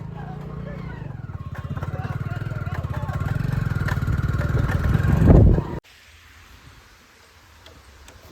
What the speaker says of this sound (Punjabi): ਬੰਤ ਵਾਲਾ ਮੋਟਰਸਾਈਕਲ